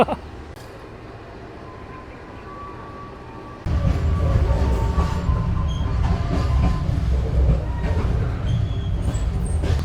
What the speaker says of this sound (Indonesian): kereta api Putri Deli telah tiba di stasiun 51